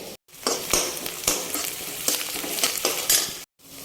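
Onions frying with spices for baingan bharta, a loud close sizzle with repeated spatula scrapes and stirring strokes, briefly cutting out near the start and end, with no voices.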